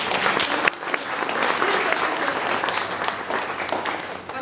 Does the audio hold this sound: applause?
yes